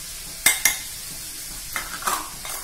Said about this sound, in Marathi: आता हा मसाला जो आपण घेतलाय ना एक चमचा, एक दीड चमचा टाकू बघा